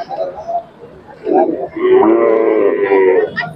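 A large Khillar cow moos at a busy Sunday cattle market in Sangola, a sustained low call rising over crowd noise and nearby talk.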